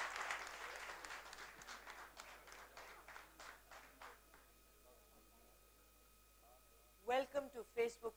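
Audience applause at a Facebook town hall meeting with a politician, a steady burst of many hands clapping that tapers off over several seconds, followed by a brief spoken voice at the end.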